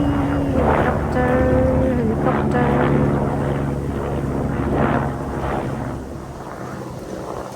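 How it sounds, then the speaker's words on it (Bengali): A helicopter passes overhead outdoors, its steady rotor drone filling the background at moderate loudness while wind buffets the microphone and someone talks over it. "এই যে হেলিকপ্টার, দেখি ধরাইতে পারবো? Tata bye bye helicopter."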